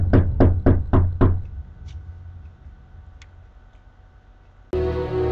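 Five quick, loud knocks on a door in an even rhythm open the sequence, followed by a quieter stretch with a couple of faint ticks and a sudden steady noise at the end.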